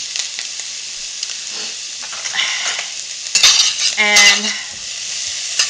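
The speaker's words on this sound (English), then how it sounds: "I'm going to saute those without a lid." Onions and garlic sautéing on high heat in an uncovered pot give a steady soft sizzle, broken by a few scrapes and clanks of a stirring utensil against the pot.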